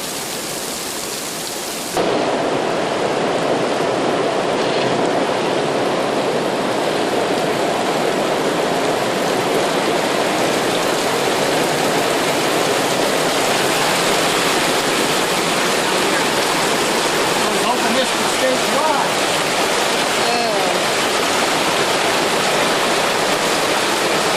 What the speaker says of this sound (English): The rain started off heavy, but got more intense minute by minute.